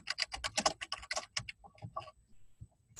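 Rapid bursts of typing on a computer keyboard, a quick run of close key clicks that slows into scattered taps near the end, with no voices.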